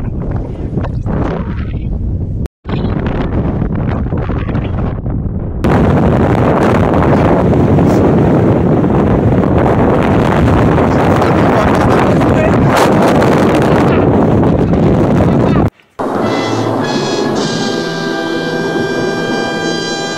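Strong outdoor wind buffeting the microphone, loud roaring gusts that come in blocks separated by short cutouts, ending with a calmer stretch where voices talk.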